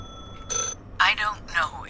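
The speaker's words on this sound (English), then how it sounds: "never mind. It's ringing." An in-game phone rings in The Last Caretaker, giving short repeated bursts of a bright electronic ring separated by brief gaps, fairly close and clear.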